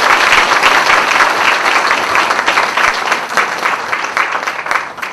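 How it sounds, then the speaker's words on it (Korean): A lecture audience gives loud, continuous applause to welcome a provincial governor at a regional party gathering, dense clapping that holds steady and tapers slightly toward the end. "뜨거운 박수로 환영해 주십시오"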